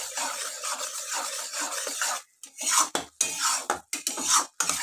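Spoon scraping and stirring a thickening mixture in a pan on the stove, continuous rasping strokes in an irregular rhythm, close and fairly loud, with short pauses between bursts.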